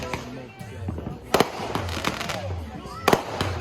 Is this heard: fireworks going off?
yes